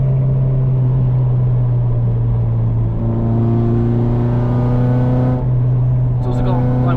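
Toyota MR2 engine revving while driving at low speed, a loud steady droning hum that climbs in pitch with the revs, heard from inside the car, with a brief knock near the end.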